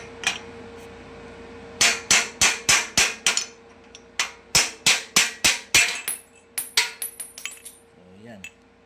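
A hammer taps out the bearing race of a Mazda 3 drive belt tensioner in a workshop: sharp metallic strikes in quick bursts of five or six, near and loud, with brief pauses between the groups.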